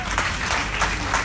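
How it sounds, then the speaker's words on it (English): Brief burst of audience clapping at a medical cannabis conference session, a short patter of hands from a modest crowd, fairly steady throughout. "you guys are welcome to clap for her."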